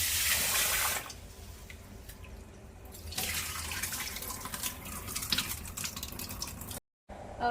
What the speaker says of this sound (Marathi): परत एका पाण्याने धुवून घेते।